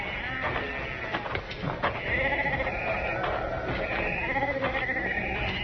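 Sheep bleat repeatedly in a radio drama Western scene, several overlapping baas at moderate distance over a steady background, without dialogue.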